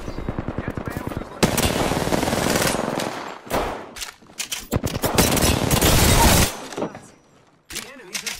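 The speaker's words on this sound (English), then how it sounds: "The enemies are shooting at me." Enemy gunfire in the battle royale game Apex Legends, loud sustained automatic bursts and rapid shots with brief gaps, dense and close, with game effects between the volleys.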